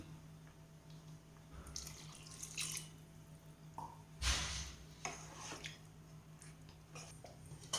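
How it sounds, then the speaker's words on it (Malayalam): A glass of water pours into butter chicken gravy in a quiet kitchen, with faint splashing and liquid trickles in short bursts over a low steady hum. No one speaks. "ഞാനിതിലേക്ക് ഒരു ഗ്ലാസ് വെള്ളം കൂടെ ചേർത്ത് കൊടുക്കുന്നുണ്ട്"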